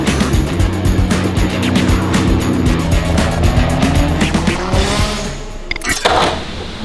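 A Nissan GT-R R35 with a straight-pipe Meisterschaft exhaust drives close by. The engine roars loudly and steadily with rising revs, without any talk.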